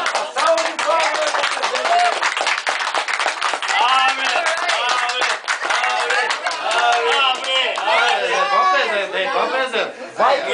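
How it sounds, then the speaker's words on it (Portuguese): A small group claps by hand in a casual indoor setting, the scattered claps mixed with lively chatter and laughter from several people talking throughout. "Salve de palmas."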